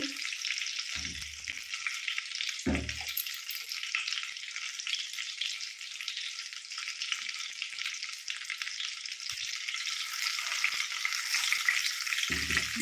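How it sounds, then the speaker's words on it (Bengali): Chicken satay frying in a pan, a loud, continuous bright sizzle that runs unbroken throughout, with a few soft low knocks from the pan near the start and end. "মটমট করে ভেজে নেবেন"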